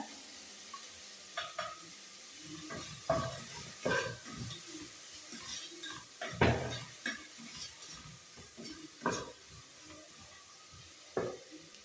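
Soft sizzling of salted onions sautéing in a pan beneath repeated scraping and knocking of a spoon stirring, the clatters irregular and close.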